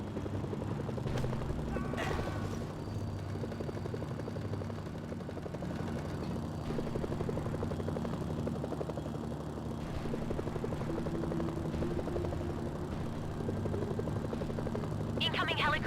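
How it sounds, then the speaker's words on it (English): Helicopters approach in the war video game Mercenaries: Playground of Destruction, with a steady thudding rotor chop throughout the scene beneath a voice speaking, along with occasional game effects and distant explosions. "Incoming helicopters."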